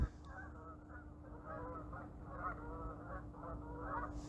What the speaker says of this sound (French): Je sais pas si vous entendez les oies, là.